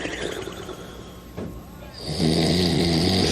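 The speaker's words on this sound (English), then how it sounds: "Five beautiful snores." Loud snoring from a Sesame Street character, heard as a rough breathy rumble that swells and holds steady through the second half after a quieter, noisier start.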